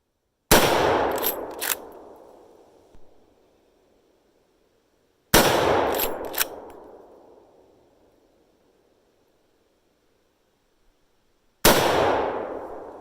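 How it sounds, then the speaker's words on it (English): Three loud, sharp rifle shots from a Mossberg 464 .30-30 lever-action fired at a target outdoors, each blast ringing out with a long decaying echo and spaced about five seconds apart, with faint mechanical clicks between them. "I'm just gonna go ahead and put my earplugs on, and then we'll take these 3 at the target."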